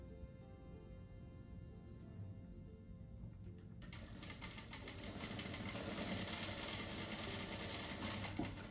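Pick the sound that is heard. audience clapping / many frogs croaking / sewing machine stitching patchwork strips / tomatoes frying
sewing machine stitching patchwork strips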